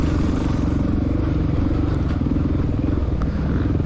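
A 1993 Honda XR600R dirt bike at an IXCR hare scramble thumps along under steady throttle, its big single-cylinder engine loud and close, with clattering and scraping from the trail and riding gear.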